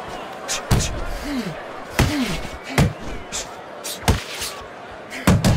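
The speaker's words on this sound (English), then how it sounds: "The Undertaker's jab lands well." Jabs land in a boxing video game, a series of sharp, loud slapping thuds spaced irregularly about a second apart, with short rising synthetic tones between some of the hits.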